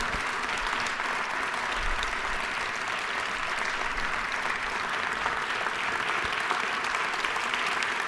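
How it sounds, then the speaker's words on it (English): Sustained applause from an audience filling the House chamber, steady and dense throughout with no pauses. "So will y'all give them a round of applause?"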